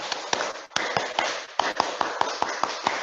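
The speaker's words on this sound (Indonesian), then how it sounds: "Satu kali tepuk pramuka" A group performs the Indonesian scout clap pattern, a rhythmic series of sharp, crisp unison claps in a structured sequence with brief pauses between bursts.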